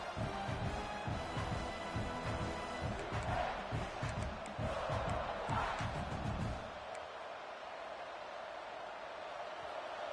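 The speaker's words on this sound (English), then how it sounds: "The roar of the crowd trying to fuel this defense to keep them pinned in their own end." Football stadium crowd roaring at a Mizzou game, a broad loud swell of cheering with rhythmic surges that fades to a lower murmur near the end.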